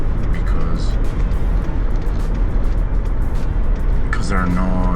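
A Land Cruiser cruising at about 40 mph on a long highway stretch, a steady loud low road and engine rumble filling the whole span, with a few faint tones and brief voices near the start and end.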